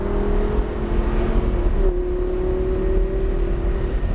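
An exotic car's engine drones steadily on a race track at Motorsport Ranch under light throttle, mid-distance, its tone gliding slightly in pitch, with no talk.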